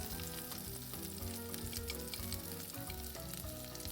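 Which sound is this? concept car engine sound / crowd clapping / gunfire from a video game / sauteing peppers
sauteing peppers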